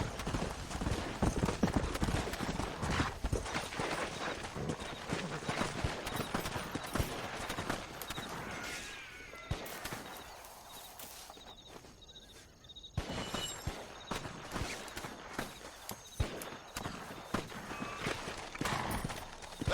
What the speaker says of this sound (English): Se supone que este caballo es mío.